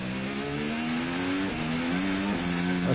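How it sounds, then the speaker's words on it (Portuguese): Daniil Kvyat's Formula 1 car accelerating on lap 20 of the Chinese Grand Prix: a loud, high-pitched engine whine climbing steadily in pitch, dropping sharply at two quick gear shifts, with no talk over it. "E aí o Kvyat acelerando."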